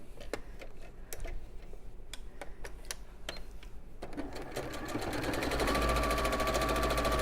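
A sewing machine runs a straight stitch through fabric, opening with separate ticking clicks and then settling into a louder, continuous mechanical whirr near the end.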